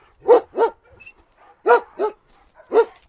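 A dog barks five times nearby, in two quick pairs and then a single bark, with quiet gaps between.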